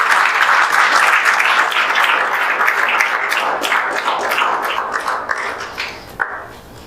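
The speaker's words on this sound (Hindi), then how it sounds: "इनके लिए जोरदार तालियां आप लोग बजा दीजिए" A crowd applauds a student's JEE Main exam rank, dense continuous clapping from many hands that starts loud and gradually thins and softens toward the end, with no speech over it.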